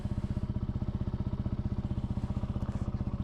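A 2022 Benelli TNT 135, a small fuel-injected motorcycle, settles into a close, steady idle just after starting, with an even rapid putter throughout.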